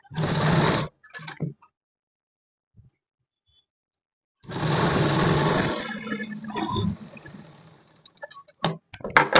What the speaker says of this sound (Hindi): इस तरीके से आपको यहाँ पर भी सिलाई लगा लेनी है